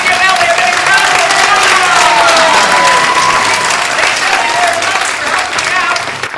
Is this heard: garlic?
no